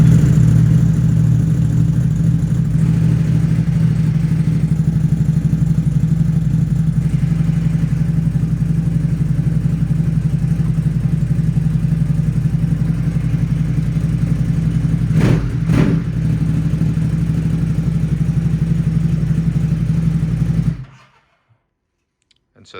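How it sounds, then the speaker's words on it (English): A 2021 Ducati SuperSport motorcycle engine idles steadily and loud up close, a constant low rumble that runs unbroken, with a couple of brief clicks partway through, before cutting out abruptly into silence near the end. "And if I want, turn on the bike."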